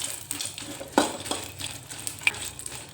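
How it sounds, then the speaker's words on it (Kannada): Green chillies frying in a little oil in a home kitchen pan, a soft crackling sizzle under sharp clinks and scrapes of a spoon stirring, with a few louder knocks against the metal. "ಸ್ವಲ್ಪ ಸ್ವಲ್ಪ ಎಣ್ಣೆ ಹಾಕ್ಕೊಂಡು ನೀವು ಮೆಣಸಿನ್ಕಾಯಿ ಹುರ್ಕೋಬೇಕು"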